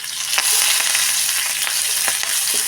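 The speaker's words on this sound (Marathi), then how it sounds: "आता टाकणार आहे ह्या बारीक चिरलेल्या हिरव्या मिरच्या" Finely chopped green chillies sizzle and crackle in hot oil for a tempering, with a steady bright frying hiss and a few sharp spits and pops, close up and without talk.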